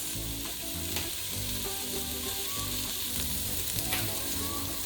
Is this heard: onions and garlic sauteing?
yes